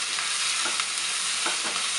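Mushrooms and dried fenugreek leaves (kasuri methi) sauté in a hot pan for mushroom pulao, giving a steady close sizzle with a few soft stirring scrapes and no talk.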